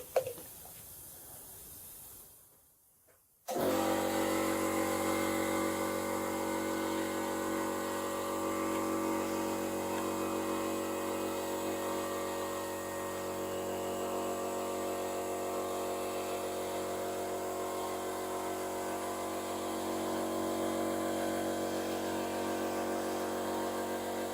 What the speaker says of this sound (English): Sorry about that, that was the compressor.